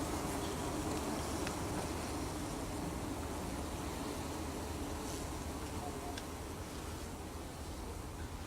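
Honeybees buzzing up close at a backyard beehive, a steady dense hum that holds evenly throughout with no talk.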